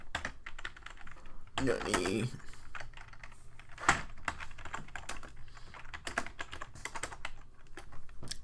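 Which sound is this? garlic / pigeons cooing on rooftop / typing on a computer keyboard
typing on a computer keyboard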